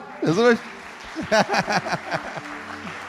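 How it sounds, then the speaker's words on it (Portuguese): Churchgoers clap for the Lord during a Portuguese-language church service, a short burst of crowd applause rising over and mixing with a voice speaking. "Você pode dar um aplauso ao Senhor"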